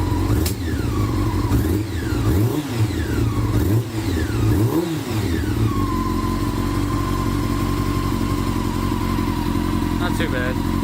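Motorbike engine idling and revving before it has warmed up, loud and close, with several rising and falling revs early on that settle into a steady idle hum, a person speaking over it.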